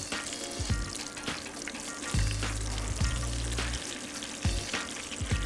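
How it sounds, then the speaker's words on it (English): Meatballs browning in a hot frying pan give off a steady, close sizzle with sharp crackles and pops, over a low background hum, with no talking. "meatballs to be nice and browned all the way around here"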